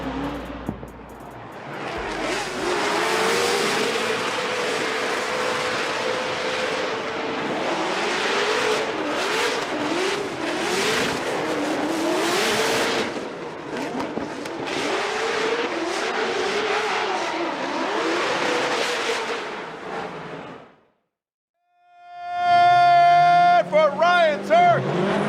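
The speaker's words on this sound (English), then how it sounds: "that supercharged LS under the hood of the S15" A Nissan S15 drift car with a supercharged LS engine screams through a Formula Drift battle run, sustained loud revving rising and falling over crowd and commentary, then a short gap before a sharp whining burst.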